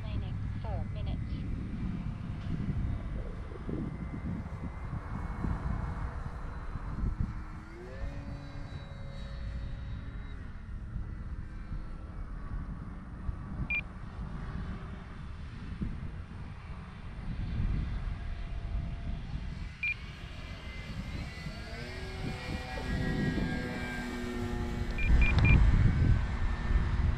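The engine of a small radio-controlled Gee Bee R3 model airplane drones steadily, its whine wavering and rising and falling as the plane moves, with talk over it and gusty wind noise on a very windy day.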